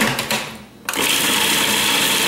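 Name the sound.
blender whirling garlic cloves for basil pesto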